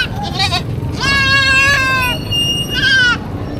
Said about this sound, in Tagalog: tatlong kambing